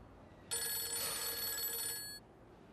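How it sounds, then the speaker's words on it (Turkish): A telephone rings in a single continuous bright electronic burst of about a second and a half, clear and fairly close against a quiet room, with no talk over it. "Aç, telefonum çalıyor."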